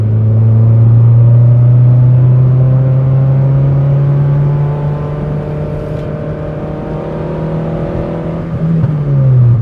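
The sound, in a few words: rebuilt 1998 Toyota Tercel engine revving on test drive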